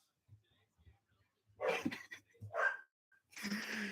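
Dogs make a few soft yelps and whimpering noises, then two louder barks, heard nearby in a room with quiet gaps between the sounds.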